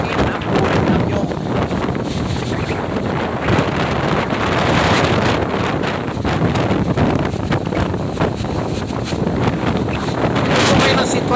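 Strong storm wind roars through coconut trees in Calauag, Quezon, a loud, continuous rushing broadband noise with heavy gusty buffeting against the microphone.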